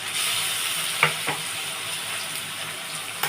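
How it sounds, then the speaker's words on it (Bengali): A steady sizzle of onion paste and spices frying in a pan, with a couple of soft clicks of stirring, close and continuous without any talking. "এটা একটু ভাজা হবে মশলাটা তারপরে আমি অন্য মশলা দেবো"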